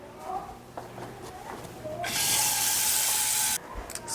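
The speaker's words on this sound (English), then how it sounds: "I'm just going to fill it about 3/4 of the way with water." Water gushes from a tap into a pan in a steady hissing stream for about a second and a half, preceded and followed by quiet clinks and faint kitchen noise.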